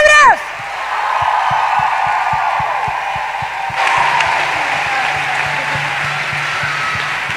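Audience applause for a band at an end-of-season live comedy show, steady clapping with cheers that swells partway through, with some voices and crowd noise beneath it.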